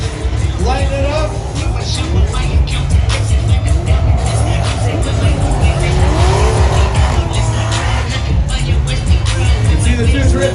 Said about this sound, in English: You can see the two drift vehicles.